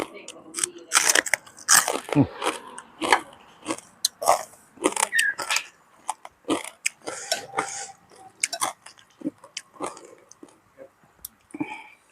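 Crispy pork rinds crunch between the teeth in loud, close bites followed by steady chewing, with irregular crackling bursts repeating throughout and occasional soft vocal sounds.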